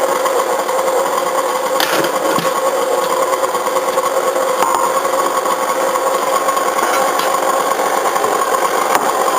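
An electric mixer beats banana nut bread batter in a steady, continuous whir with a faint rattle, loud and close throughout without a pause.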